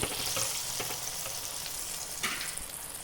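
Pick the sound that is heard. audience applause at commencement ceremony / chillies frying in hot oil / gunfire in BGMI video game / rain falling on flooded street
chillies frying in hot oil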